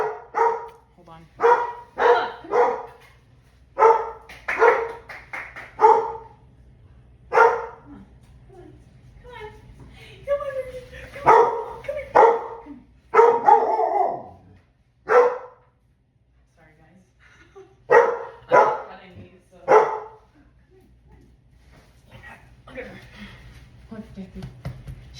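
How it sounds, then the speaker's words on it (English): A big hound dog barks and whimpers in repeated loud bursts close by, with pauses between volleys, while a person talks over and between the barks. "She's a big hound doggy."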